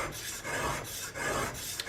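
Flat sharpening stones rubbed by hand along a lubricated blade, giving a steady rasping scrape in repeated strokes of about half a second, close and fairly quiet with no talk.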